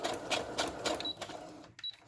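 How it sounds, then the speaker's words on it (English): Sewing machine stitching a plastic window from an envelope onto paper, a fast rhythmic mechanical clatter in short bursts with brief pauses, close and fairly loud. "That's how you sew on the plastic."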